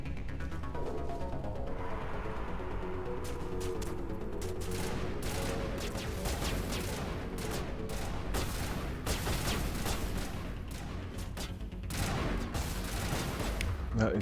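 Sustained sniper rifle fire in a Mass Effect battle: sharp cracks and thuds repeat through a dense, loud wash of combat noise that never lets up.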